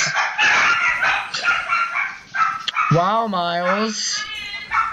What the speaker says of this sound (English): Those would be my dogs.